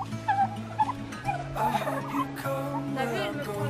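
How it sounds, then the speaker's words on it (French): Several turkeys gobble and chatter nearby in quick, uneven bursts, with a person speaking softly among them. "Alors on vient me voir hein, les petits dindons."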